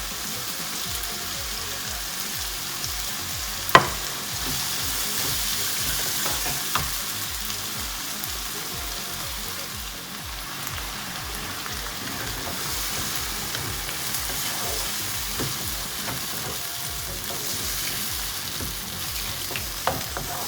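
Tomatoes and onion sautéing in oil in a pan for okra do pyaza, a steady close sizzle and crackle running throughout with a few sharper pops and faint spoon scrapes, no voices.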